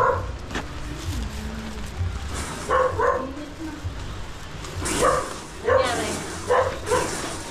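A dog barks and yips a few times at moderate distance over outdoor background noise near a house, with a whimpering tone between bursts.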